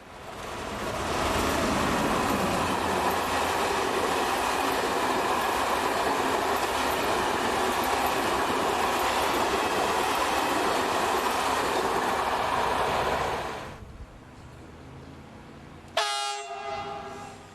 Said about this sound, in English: Here we see a V63 on a Budapest to Nagy Kanica service.